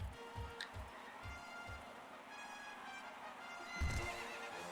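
Horse hooves clip-clop in a quick rhythm as horses run onto the track in the video game Gallop Racer 2004, followed by a loud whinny, with a steady crowd-like ambience behind.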